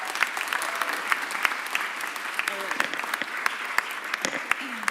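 Crowd applauding at a Philadelphia mayor's news conference, sustained clapping with sharp individual claps standing out, moderately loud, with faint voices mixed in beneath.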